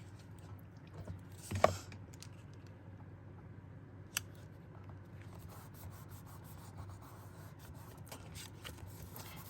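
Scissors cutting paper while making a brown ephemera bag, a quiet brief snip followed by soft rubbing and faint scraping against a low steady hum, no talk.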